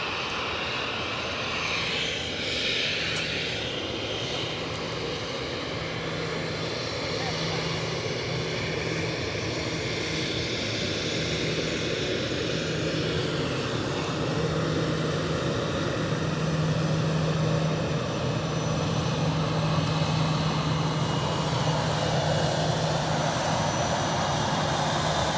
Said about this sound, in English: It's a beautiful aircraft.